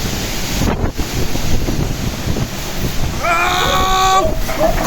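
Hurricane-force wind lashes a street in São Caetano do Sul, Brazil, roaring and buffeting the microphone continuously at close range, with a brief high whistling whine rising near the end.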